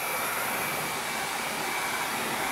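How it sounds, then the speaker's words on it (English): A hair dryer blows steadily across plastic window insulation film to shrink it tight, a constant broadband whoosh with a faint whine, close and continuous, with no talk. "You turn it on and you start going across the plastic, and this is going to tighten it up."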